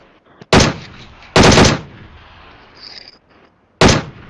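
Gunfire in the PUBG Mobile video game: three loud, close bursts of rapid automatic shots separated by quieter gaps, with a faint background tone between them and no talking.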